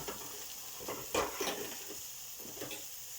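Food cooking in a dry frying pan on a glass-ceramic hob, a faint sizzle broken by a few scrapes and knocks from stirring.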